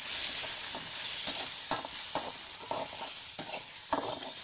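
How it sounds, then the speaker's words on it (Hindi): Sliced onions for kanda poha sizzle in a hot pan with a bright, constant hiss, broken by rhythmic scraping stirs every half second or so. "प्याज को हम ज़्यादा नहीं भूनेंगे"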